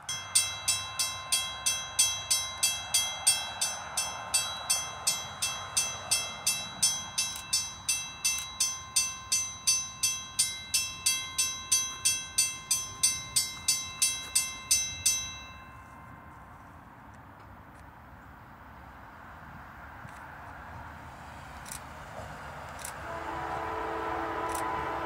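A northbound Norfolk Southern NS371 freight train approaches. A level-crossing bell rings in a steady, even rhythm for about fifteen seconds, then stops and leaves a low, rising rumble of rail traffic in the distance.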